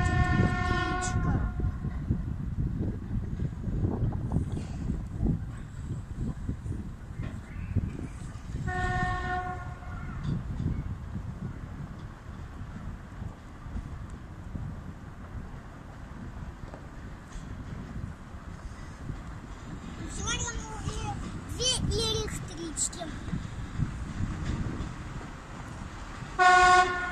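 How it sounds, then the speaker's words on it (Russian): An electric commuter train rumbles steadily past nearby at Timashevsk station, its horn sounding in short toots near the start and again partway through, with a brief squeal of wheels later on. "А там едет электричка."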